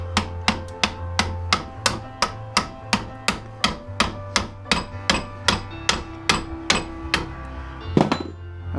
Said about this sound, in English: Now you just hammer underneath the whole thing.